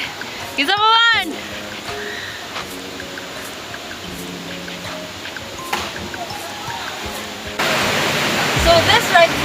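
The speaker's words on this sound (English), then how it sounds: "this right here is the deepest part of the whole river, and there's a heavy flow right in the back" Heavy river flow at the deepest part of a river near F.S. Catanico falls in CDO forms a constant rushing roar, swelling louder toward the end, with voices talking over it throughout.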